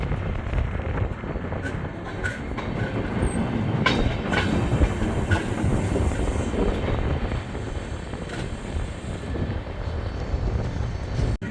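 The Taj Express rolls past on a nearby track, a loud continuous rumble with rhythmic clickety-clack of wheels over rail joints, heard from aboard another moving express train.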